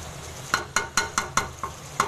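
Chicken fries in a pan while a spoon scrapes and stirs it in seven sharp, evenly spaced strokes over a soft sizzle.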